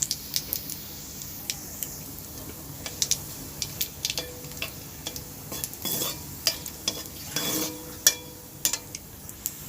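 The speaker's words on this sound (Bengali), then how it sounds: "শুকনো লঙ্কাটা একটু ভালো করে ভাজা হোক" Whole cumin, dried red chilli and bay leaf fry in hot oil with a steady close sizzle, broken by frequent sharp clicks and scrapes of a spoon stirring the pan.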